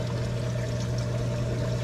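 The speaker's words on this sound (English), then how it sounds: "It just drips right in." Water dripping from a hose tip into an aquarium sump on a CWT Aquatics 55S tank, a steady trickling pour over a constant pump hum.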